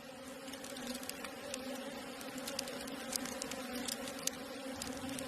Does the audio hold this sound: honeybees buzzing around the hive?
yes